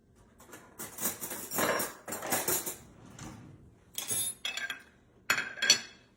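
A knife slices a piece of warm iced cake on a plate, giving irregular bursts of close cutlery clinks and scrapes separated by short pauses.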